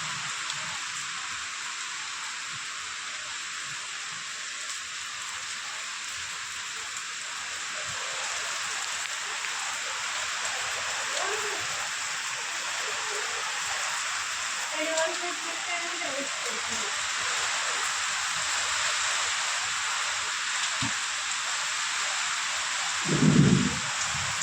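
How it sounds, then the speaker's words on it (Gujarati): Heavy monsoon rain pours down in a steady, loud hiss that builds slightly, and a short rumble of thunder breaks in near the end. "વરસાદ બંધ જ નથી થતો અને બહુ જ વધતો જ જાય છે"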